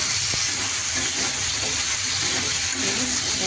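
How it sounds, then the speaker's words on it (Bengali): Steady sizzling of potatoes frying in a wok, a continuous hiss with faint stirring scrapes, close and fairly loud throughout. "এবার আমি আলুগুলো দিয়ে একটু কষিয়ে নেব।"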